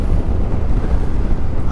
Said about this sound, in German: Hier ist schon wieder so windig, ne?